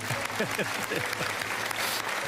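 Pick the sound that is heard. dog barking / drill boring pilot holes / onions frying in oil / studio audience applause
studio audience applause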